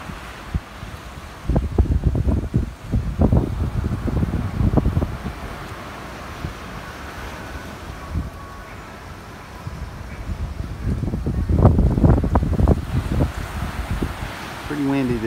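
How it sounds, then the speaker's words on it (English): Steady wind from the edge of Hurricane Dorian on St Martin buffets the microphone, with gusty roaring bursts rising and falling over a constant rushing background. "Pretty windy this morning with Hurricane Dorian out there."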